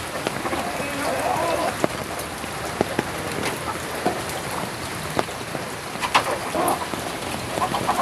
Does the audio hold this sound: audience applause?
no